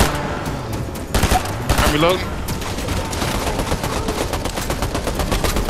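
Gunfire in the Fortnite video game while sniping, a dense burst of loud sharp shots and rapid volleys close by, with a brief spoken word mixed in.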